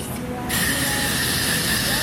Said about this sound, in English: Spray that with some Got To Be.